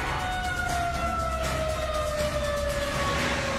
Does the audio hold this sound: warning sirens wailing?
yes